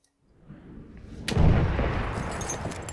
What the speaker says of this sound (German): ich spawn direkt, explodiert hier was